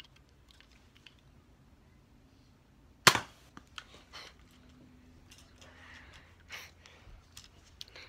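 A single sharp snap from a blue and white Nerf Jolt blaster firing a dart, fairly close, followed by faint handling clicks and rustles in a quiet room.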